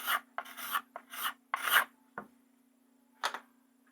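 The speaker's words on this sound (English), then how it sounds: "scrape off any excess that's on your tool so it can be used" A tool bit is scraped clean of excess material in about seven short, close, rasping strokes of uneven length, heard alone against a faint steady hum.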